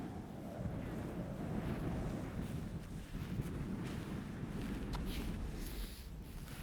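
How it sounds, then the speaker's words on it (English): Wind gusting over a sailboat at sea, heard as a soft, continuous broadband rush with buffeting against the microphone and faint wave wash beneath, fairly quiet and without talk. "It's a little bit windy, but..."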